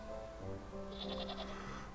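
A sheep bleats in the Wytchwood video game, a short wavering call over soft background game music, with no talk.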